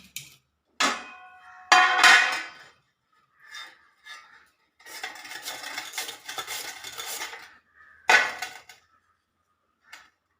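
Peeled potatoes scraped across a chip slicer for tea-time snacks, giving irregular bursts of rasping, scraping strokes separated by short silences, close and fairly loud.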